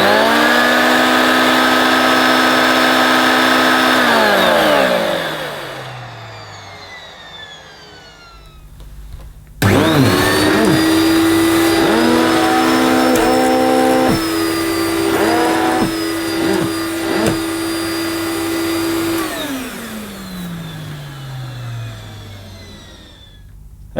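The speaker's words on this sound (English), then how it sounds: "When I switch the filter queen on, we should see the brushes revolve on the power head." A Filter Queen Majestic Triple Crown vacuum cleaner powers up with a loud whining motor, winds down, then restarts at full roar on plush carpet, its pitch sagging under load before spinning down again.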